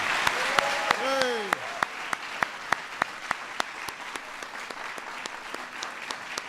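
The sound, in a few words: audience applause for honorees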